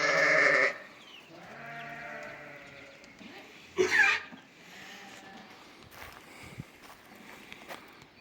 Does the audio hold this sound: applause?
no